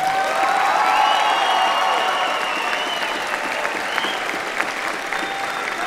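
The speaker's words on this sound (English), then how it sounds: "Give them a round of applause." Sustained applause and cheering from a large crowd at a high school graduation ceremony, steady and loud for the whole stretch with a dense wash of clapping and a few scattered shouts.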